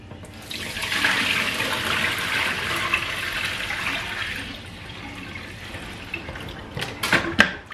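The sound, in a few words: washing rice in water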